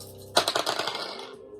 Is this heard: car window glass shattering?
no